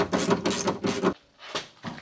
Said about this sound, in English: Now we just need to pop off this plate, which I'll use a 10mm socket for